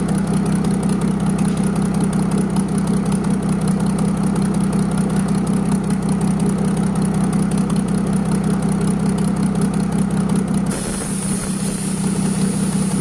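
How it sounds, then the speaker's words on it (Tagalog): A Mercedes-Benz diesel engine idles steadily during an overhaul, with a low, rumbling drone and mechanical clatter, close and continuous, its tone shifting slightly near the end. "Hayaan lang po natin umandar ang makina"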